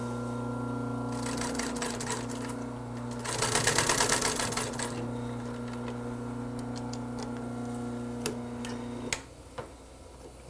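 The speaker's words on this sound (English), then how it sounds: "Match up these corner pleats and snug it up. Sew on around the corner." A sewing machine stitches around the pleated corner of an inner spring cushion for a camel back sofa, running in a steady close whirring rhythm that surges louder midway, then stops with a few soft clicks near the end.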